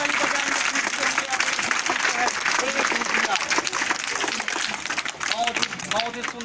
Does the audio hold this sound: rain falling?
no